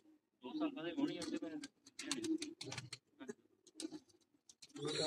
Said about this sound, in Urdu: بیسیکلی فیروز پوری کبوتر ہے